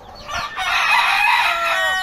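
A fighting rooster crows once, loud and close, a drawn-out strained call lasting about two seconds.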